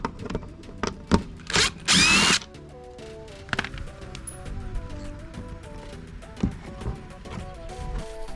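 A power tool spins out T15 Torx screws holding the tail lights on a C5 Corvette, heard as a short, loud, close whirring burst among scattered clicks and tool handling noises.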